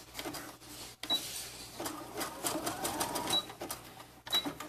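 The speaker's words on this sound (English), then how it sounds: "Okay, so I zigzag stitched that end as well." A sewing machine runs a zigzag stitch along fabric for a DIY dart bag, a rapid mechanical chatter heard up close, with short stops and restarts between runs.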